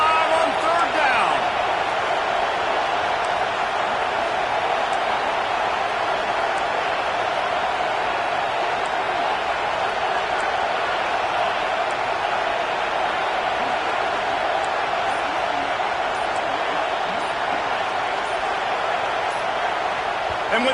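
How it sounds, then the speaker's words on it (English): A huge Ohio State Buckeyes football stadium crowd roars on third down as a continuous, loud wash of cheering and noise that holds steady throughout. "The Buckeye crowd alive on third down."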